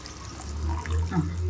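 Water runs in a kitchen while gongura chana curry cooks, a soft, faint trickle and splash lasting a moment, with no talking over it.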